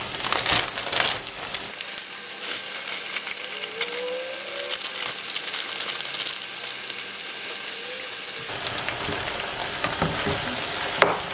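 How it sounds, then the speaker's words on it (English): Frozen chopped spinach is stirred into a pot of okra soup, with crunchy, crackling scrapes that come in bursts at the start and end and ease into a softer, steadier stir in between. "Stir in my spinach."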